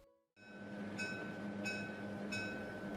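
A train rolling on rails, heard from inside a sleeper carriage: a steady low rumble and hum with periodic rhythmic clacks of wheels over rail joints, soft and continuous.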